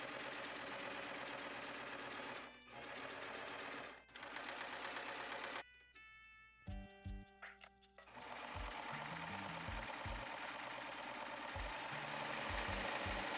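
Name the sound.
sewing machine finishing raw edges of trouser pieces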